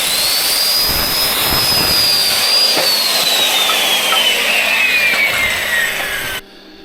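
A loud power saw whines through wood near at hand, its pitch slowly dropping as the cut goes on, then cutting off abruptly at the end.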